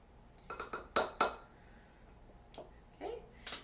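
A spoon mixing flour, graham flour, baking powder and salt in a bowl: a quick series of clinks and scrapes against the bowl, then a few softer knocks, close and fairly quiet, with no talk.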